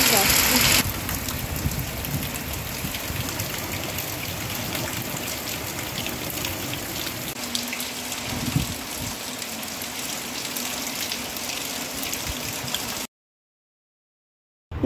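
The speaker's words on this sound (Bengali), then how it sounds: "জানালার ধারে বসে বৃষ্টির শব্দ শুনতে কিন্তু খুব ভালো লাগে" Heavy rain falls during a storm, a dense steady wash of drops and runoff heard from indoors by a window, continuous and fairly loud before cutting out near the end.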